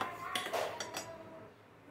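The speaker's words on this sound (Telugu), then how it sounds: "దగ్గర అయ్యే వరకు కూడా ఇది మిశ్రమాన్ని అలా కలుపుతూ ఉండాలి" A sago halwa mixture is stirred in a pan, giving a few soft scrapes and light clinks of a utensil against the metal. The sounds are brief and close, with no talking.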